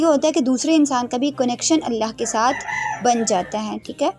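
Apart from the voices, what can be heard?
rooster crowing in the background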